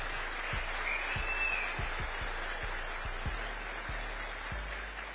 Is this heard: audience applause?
yes